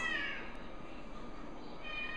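A stray mother cat meows in a single drawn-out, fairly faint call, heard alone against a steady background hiss.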